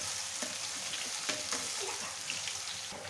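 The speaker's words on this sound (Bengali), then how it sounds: "তেল গরম হয়ে গিয়েছে, এর মধ্যে দিয়ে দেবো পেঁয়াজ আর রসুন কুচি, দিয়ে দেবো 3টি শুকনো লঙ্কা" Chopped onion, garlic and three dried red chillies fry in hot oil for a Bengali dal, giving a steady close sizzle with light stirring clicks scattered throughout and no voices.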